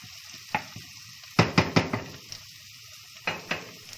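Meat sizzling in a pan with frying onions and garlic, a soft hiss broken by a quick run of sharp clatters and scrapes in the middle and a couple more near the end.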